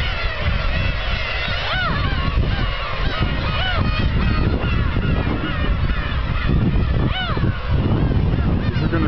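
Seagulls at the Kabushima rookery, many adults among chicks, give loud overlapping honking cries and squawks over a steady crowded background din, with voices faint beneath.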